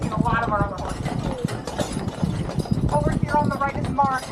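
Percheron and Belgian carriage horses pulling a tour carriage on Mackinac Island clip-clop steadily in a continuous rhythmic patter, close by, under constant talk from a guide.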